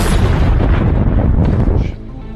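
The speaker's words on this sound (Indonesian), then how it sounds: "John malah menembak Jack." Gunshot in a film scene, a loud, dense blast with a heavy boom that holds for nearly two seconds before cutting to a quieter rumble.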